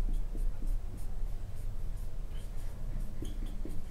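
Pen scratching across paper as the word "member" is written out during a reasoning lesson, a steady close scribble of small strokes lasting throughout with no talk.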